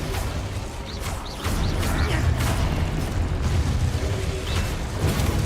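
The Expulso explosion spell goes off in Hogwarts Legacy as a dull boom amid continuous loud combat noise, with scattered bursts and crashes and battle voices mixed in.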